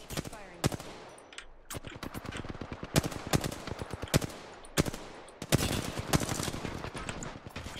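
Rapid automatic gunfire from the Apex Legends video game, with dense bursts of shots crackling back to back over several seconds, loud and close throughout.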